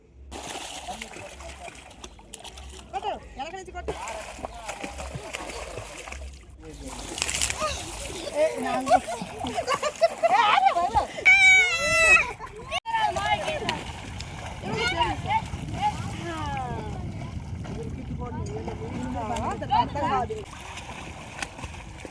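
Children splash and play in the Krishna river, with water slapping and sloshing near and far, and excited voices and shouts mixed throughout the scene.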